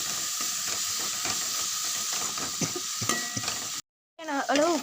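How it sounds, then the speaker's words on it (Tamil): Marinated prawns fry in a hot pan with a steady, close hiss and crackle broken by occasional stirring scrapes, then a sudden cutoff and a short burst of a voice at the end. "செம்மீனை தூக்கி போடலாம்."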